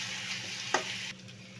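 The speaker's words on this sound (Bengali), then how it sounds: "এটা এখন সুন্দর করে ভেজে নিব। মরিচ পেঁয়াজ ভাজা হয়ে গেছে। এখন আমি এতে শুটকি দিয়ে দেব।" Dried kachki fish frying in a pan with chili and onion, a steady close hiss of hot oil with one short clatter of stirring before the sizzle drops away.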